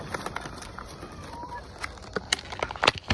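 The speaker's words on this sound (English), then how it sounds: "We have 60 something birds here, including 5 ducks." Scattered clucks and squawks from a backyard flock of about sixty chickens and ducks over a quiet outdoor background, with a few sharper calls near the end.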